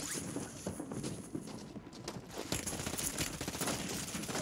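Rapid gunfire in a Warzone match with a WSP-9 class, sharp cracks in quick bursts over busy game noise, with no voices.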